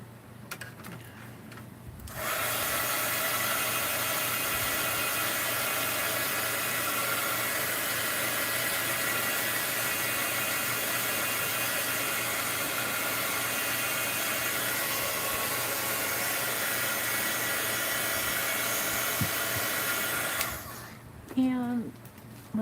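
A hair dryer blows steadily on wet watercolor paint for about eighteen seconds, a loud continuous whir that starts abruptly and cuts off cleanly, with quiet handling sounds just before and after.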